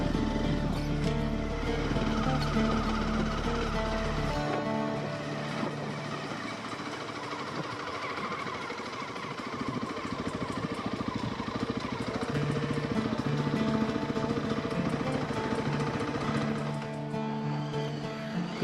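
A Zontes 310T motorcycle ridden offroad, its engine droning steadily and close throughout with a rough, loaded rumble and shifting revs, no voices over it.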